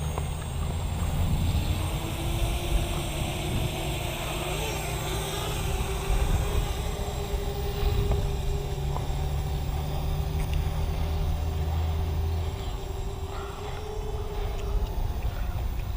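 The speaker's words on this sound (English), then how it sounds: "We're gonna push the lever to the inside to unlock the motor, and here we go." The motors of an Eachine Racer 250 FPV drone drone and whine continuously in flight, a steady loud buzz with a sustained tone that shifts slightly in pitch.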